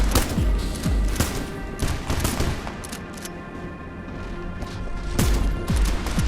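Enemy gunfire in the video game Metal Garden, loud sharp shots in bursts and scattered volleys, with a heavy cluster at the start and another near the end and quieter stretches between.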